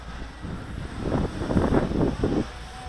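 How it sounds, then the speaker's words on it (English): Strong wind buffets the microphone outdoors during a drone flight, a steady low roar that swells into heavy gusty rumbles midway before easing slightly. "this wind is brutal right now"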